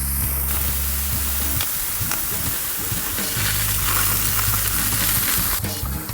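A venison burger and mushrooms dressed with olive oil sizzle and fry on a hot grill box, a steady close hiss with small crackles and a few scraping stirs, no talk.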